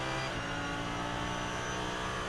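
GT3 race cars thunder around the Nürburgring Nordschleife during the 24-hour race, a dense continuous engine roar heard at a distance and held steady with no voices.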